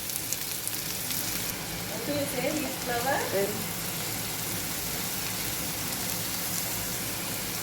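Sliced onions frying in a pan for a dry anchovy (nethili karuvadu) fry, giving a steady, even sizzle throughout with brief faint stirring sounds near the start.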